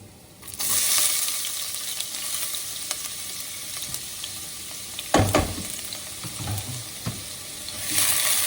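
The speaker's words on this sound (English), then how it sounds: "at this point, we're gonna add in our celery and our onions" Celery and onions sweating in a pot, giving a continuous close sizzle that swells as the vegetables go in, with a few sharp knocks and scrapes of stirring partway through.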